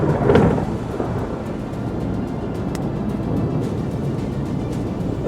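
Thunder from a nearby thunderstorm at Big Pine Lakes rolls in with a deep rumble at the start, then fades into a steady wash of rain.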